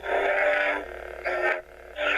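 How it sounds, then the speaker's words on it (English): A Graflex-style lightsaber running the Dagobah sound font gives off a steady electronic hum with a faint pulsing, loud and close. It swells a few times, with brief dips and surges in the tone and no talking. "It has a slightly different hum."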